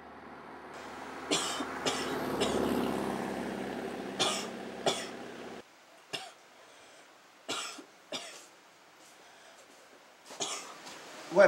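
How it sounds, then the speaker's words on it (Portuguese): A sick child with a fever coughs in a house, several hoarse, harsh bursts spaced irregularly over the span, close and fairly loud, with quiet gaps between fits. "quem tá tossindo desse jeito aqui?"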